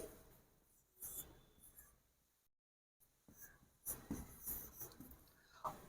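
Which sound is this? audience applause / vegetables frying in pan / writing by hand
writing by hand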